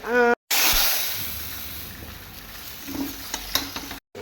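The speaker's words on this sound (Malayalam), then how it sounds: "കടുവ് പൊട്ടിക്കുമ്പോൾ ഇതുപോലെ തുറന്നു വയ്ക്കരുത്" Mustard seeds spluttering in hot oil as a tempering for a jackfruit-seed and spinach-stem curry: a loud burst of dense crackling sizzle at the start, easing into a softer, steady sizzle with a few sharp pops near the end.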